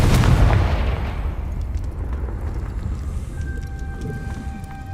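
A Confringo fire spell in the video game Hogwarts Legacy bursts in one loud, booming blast that rolls off into a long, fading rumble while faint tones hum in the background.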